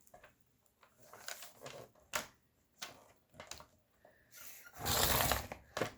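Scissors cutting a strip from a sheet of paper for a junk journal page, producing short crisp snipping bursts with a longer rustling cut near the end, close and fairly quiet.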